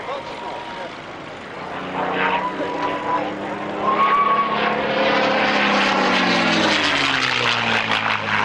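Wartime propeller fighter flying past at the North Weald airshow, its engine drone rising and shifting in pitch as it nears, steady and fairly loud throughout, with a commentator's voice faintly mixed in.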